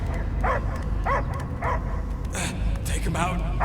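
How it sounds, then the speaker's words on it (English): A dog in the Guardians of the Galaxy video game barks and yelps in several short, sharp bursts over a steady low rumble and background sound. "I hear only barking"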